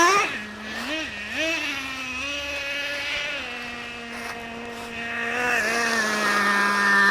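A Traxxas Revo 3.3 nitro RC monster truck engine runs hard in leaves, a sustained high buzzing whine that dips and climbs with quick throttle changes before settling into a steady, moderately loud scream.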